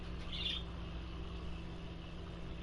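A single soft, high chirp from a pet bird indoors comes early, then only a quiet, steady room hum follows with no voices.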